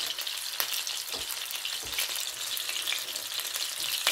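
Steady, loud sizzling of old-fashioned cheeseburger patties frying in a hot pan, with occasional crackles and pops and no voices.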